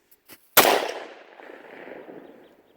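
A firework is set off outdoors in winter: after a couple of faint clicks, a single sharp, loud bang cuts in, then a fizzing, crackling tail that trails away over about two seconds.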